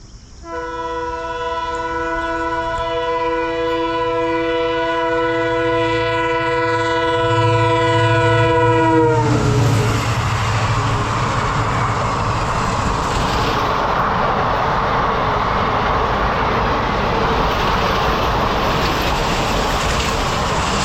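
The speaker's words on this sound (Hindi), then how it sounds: "ये आपने देखी फाजिल्का दिल्ली एक्सप्रेस, और ये मैं ट्रेन देखना चाहता था क्योंकि इसके साथ डीजल लोकोमोटिव लगा हुआ है" Fazilka–Delhi Express hauled by a diesel locomotive at Shambhu station: a long, loud sustained horn blast, then the train roaring past close by with a continuous rumble of wagons for the rest of the clip.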